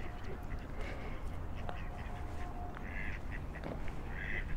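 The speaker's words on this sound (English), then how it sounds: "I love those mallard heads." Mallard ducks quacking outdoors in small-town Livingston, Montana, with several scattered quacks at moderate distance over steady ambient noise, and a person talking softly.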